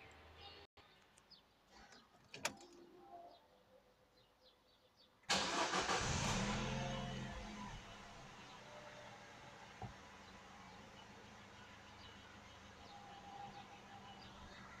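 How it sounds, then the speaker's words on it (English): A Peugeot 308 1.4 petrol engine cranks briefly after a few quiet clicks, then catches with a loud burst and settles into a steady, even idle, recorded close with no talking. "now I can start the engine"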